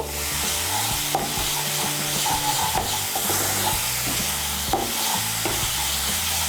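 Ground spices and paste stirred into hot oil for a soybean and eggplant dish, a loud steady sizzle punctuated by a few sharp spoon knocks against the pan, with no one speaking.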